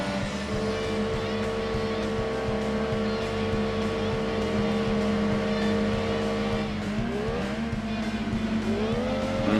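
Race car engines in Gran Turismo 2, including a Savannah RX-3 from the early 80s, droning steadily at high revs with pitch bends as the cars shift and corner, close and continuous.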